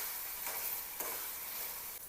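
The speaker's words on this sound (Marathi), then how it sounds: "मसाले तेलामध्ये छान भाजू द्यायचे" Spices fry in oil in a pan, giving a soft, steady sizzle with a couple of faint stirring scrapes, quiet and close, with no voices.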